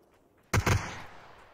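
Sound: gunfire in the video game PUBG

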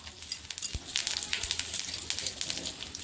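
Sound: cumin seeds sizzling in hot butter

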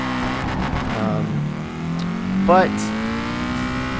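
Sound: car engine and tires drifting in Peak Angle Drift Online video game

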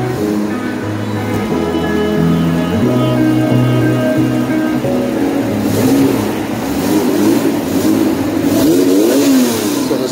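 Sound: Honda NSX engine revving on a dyno

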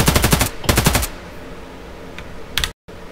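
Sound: unsuppressed RPK machine gun firing in Escape from Tarkov video game

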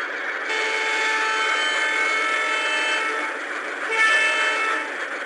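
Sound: train horn in a video game

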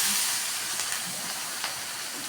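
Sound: celery leaves frying in hot oil

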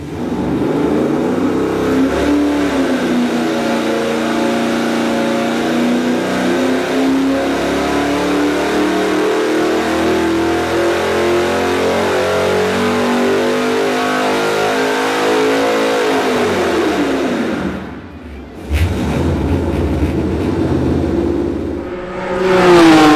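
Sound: supercharged LS3 V8 engine with LS9 blower cam revving

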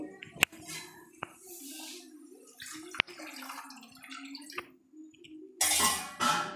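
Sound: water being poured into cooking pan

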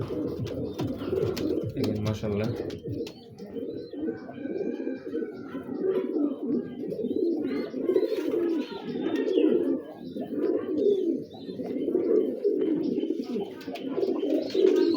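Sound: pigeons cooing

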